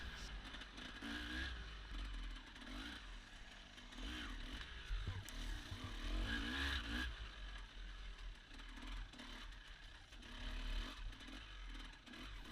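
A 300 motorcycle rides along a single-track trail, its engine lugging at low revs under clutch control. The engine drones steadily and continuously, rising and falling with the ride, with no voices.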